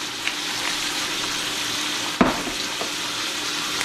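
Peppered wild hog meat, seasoned with coriander, browns in a hot pan with a close, continuous frying crackle and hiss. One sharp clatter lands midway, and a few soft pops follow.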